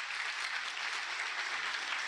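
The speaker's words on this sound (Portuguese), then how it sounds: "Aplauda bem forte, senhor." Church congregation clapping hard in unison during a service, a dense continuous patter that fills the whole stretch at moderate level with no talk over it.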